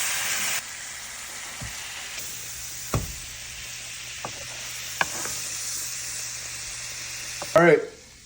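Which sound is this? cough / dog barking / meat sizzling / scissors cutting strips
meat sizzling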